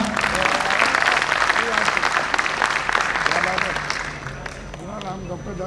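An audience at the opening session of the NMOCON 2023 conference at AIIMS Kalyani applauds with steady, fairly loud clapping. A voice speaks or sings over the applause, which softens slightly toward the end.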